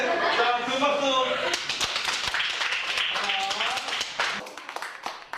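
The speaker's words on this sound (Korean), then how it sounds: "자, 그 박수." Classroom of middle school students clapping for the winning team at the end of a QR-code STEAM lesson, a burst of scattered, uneven claps over a few seconds mixed with voices and talk.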